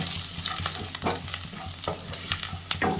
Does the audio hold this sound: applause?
no